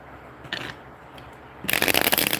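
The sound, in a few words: shuffling tarot cards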